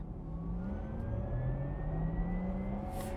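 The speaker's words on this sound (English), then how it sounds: "okay, this has this Porsche sport sound" A Porsche engine in sport plus mode with the sport sound on accelerates steadily, its pitch climbing smoothly through the gear, close and continuous with no talking.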